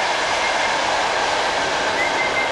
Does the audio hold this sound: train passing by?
yes